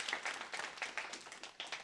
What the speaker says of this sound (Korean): 우리 반가운 마음으로 축복하는 마음으로 박수 한번 하겠습니다